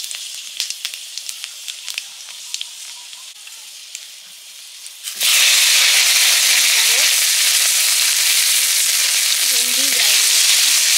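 Five-spice seeds hit hot mustard oil in a pan with a sudden loud, steady sizzle after quiet clinking, close up and continuing without talk.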